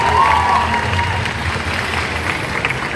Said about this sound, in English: a big round of applause for their amazing inspiration